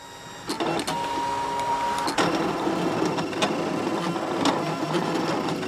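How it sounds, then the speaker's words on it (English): A Brother ScanNCut cutting machine whirs steadily as its blade cuts felt, with sharp intermittent snaps of fibers and ticks cutting through the mechanical hum. "you can hear those fibers snapping in there"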